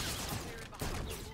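Dense, continuous gunfire from the video game Call of Duty: Infinite Warfare, a sustained loud barrage with a brief dip midway, filling the whole moment.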